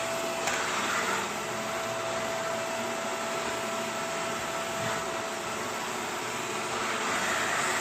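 Shark Rotator vacuum cleaner running on a fabric couch, a loud, constant motorized whine and suction roar throughout with slight surging as the head moves, no talk.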